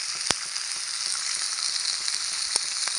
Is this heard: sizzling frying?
yes